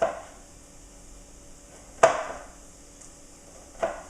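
Jalapeno pieces sliced with a knife on a cutting board, two or three sharp isolated knocks spaced a couple of seconds apart against a quiet kitchen background.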